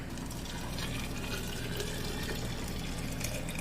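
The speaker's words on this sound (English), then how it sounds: "Okay, so I'm gonna add some water to those." Water is poured into a glass jar of dehydrated tomatoes, filling it about halfway: a steady, close rushing splash that runs without a break for the whole stretch, with no talk over it.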